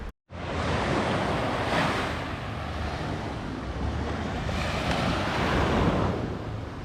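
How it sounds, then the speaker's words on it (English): Waves wash continuously onto a deserted rocky beach near Puerto Vallarta, a loud, broad roar of surf with gentle swells and wind buffeting the microphone throughout, no voices. "a beautiful beach, deserted beach, just for you"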